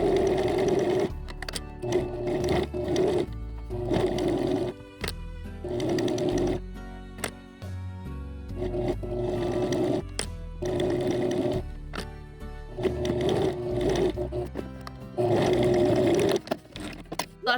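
A sewing machine stitches a plushie's neck piece onto its face, running in loud bursts of rapid mechanical whirring with short pauses between runs.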